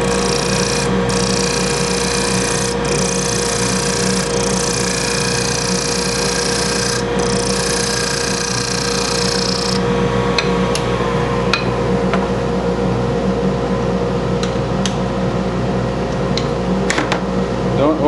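A wedding ring being turned on a woodturning lathe, a steady humming motor with a continuous rasping scrape as light cuts are taken, some faint clicks toward the end.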